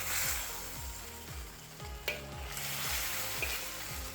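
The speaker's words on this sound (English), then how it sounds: "turn off the fire, and just stir it in" Deep-fried halibut pieces are stirred gently into a light sauce in a pan with the heat off, producing a faint continuous sizzle under a regular rhythm of soft scraping stirs, close and without voices.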